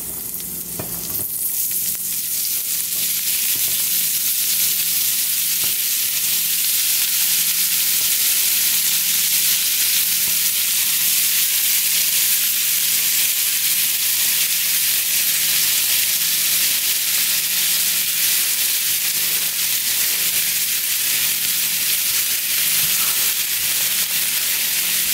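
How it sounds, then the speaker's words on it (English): Vegetables sauté in butter in a pan for cornbread dressing, giving a loud, continuous sizzling hiss that stays steady throughout, with occasional faint stirring clinks underneath and no talk. "start by putting our veggies in the pan with butter"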